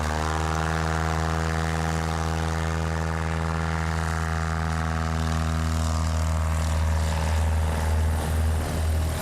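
A 1961 Piper PA-18 Super Cub with a 150-horsepower engine flies past, its steady propeller drone strong and close, with the tone sliding gradually lower as it goes by.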